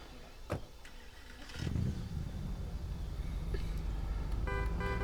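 A police car in the zombie game State of Decay starts up at about the two-second mark, preceded by a clunk, then its engine settles into a steady, fairly loud running drone as it pulls away.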